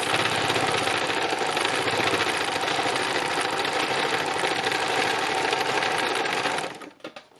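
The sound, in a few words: sewing machine free machine stitching fabric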